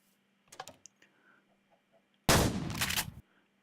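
Burst of M10 gunfire from a Minecraft gun mod, a loud, dense rapid volley lasting about a second after a few soft clicks and taps, with no talk.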